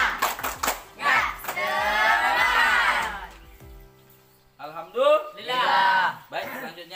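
A group does Indonesian spirit clapping in a quick patterned rhythm, mixed with voices chanting along, then brief quiet and more lively group vocals with clapping.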